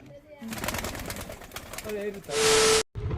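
Bangladeshi high-flying pigeons at a loft give soft, low coos, with a few brief tonal calls and a sudden loud rushing burst near the end before the sound cuts out briefly.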